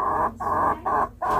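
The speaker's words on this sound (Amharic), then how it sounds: "እነዚህን ዶሮዎች እንግዲህ አያችኋቸው" Large chickens cluck up close in three quick, loud bursts separated by brief pauses.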